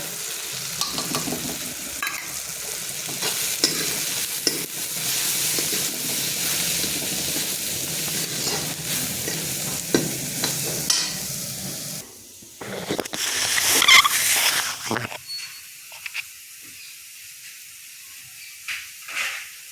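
About a kilo of carrots with tomatoes, salt and chili fries in a pan while being stirred. The scraping and sizzling hiss is close, then drops away to quieter bursts near the end.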